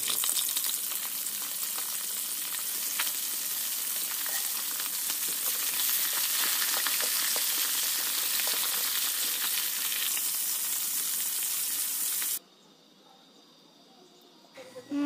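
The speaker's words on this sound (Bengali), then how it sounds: "এবার ওই কড়াইতে তেল দিয়ে মাছগুলোকে ভেজে নেব।" Fish sizzles steadily as it fries in hot oil in a wok, a loud, dense crackle that runs for about twelve seconds before dropping away to near quiet.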